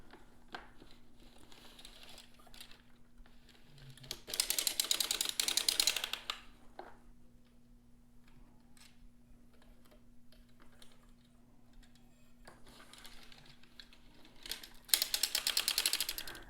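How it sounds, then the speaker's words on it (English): A circular sock knitting machine being cranked while knitting a ribbed sock, giving two bursts of rapid mechanical clattering between long quiet stretches of faint ticks and low hum. "wrap the yarn around the back, crank forward"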